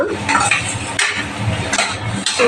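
Spices get stirred with dried fish in a pan while cooking karuvadu thokku, giving repeated close scraping and clattering of a utensil against metal over a light sizzle, with no talking.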